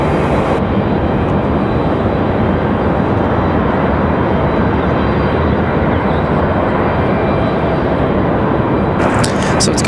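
A Boeing 777 departing Raleigh-Durham airport produces a loud, continuous jet roar, broad and powerful throughout, with a brief higher rattle near the end.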